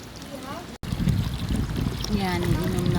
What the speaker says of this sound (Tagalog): drinking fountain dito sa park. Malinis na tubig, inumin.